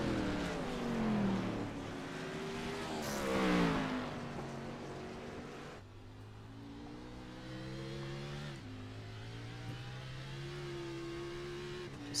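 Race cars on the Long Beach street circuit in a racing game, their engines droning steadily and shifting pitch through gear changes as the cars lap together. The sound is continuous and moderately close.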